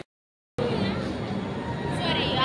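Dense crowd chatter at a busy train station, a steady babble of many voices close by after a brief silent start, with a nearby voice talking over it.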